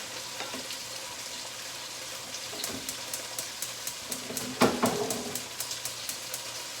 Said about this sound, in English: And I'll be adding my mirepoix with the bacon and the giblets into here.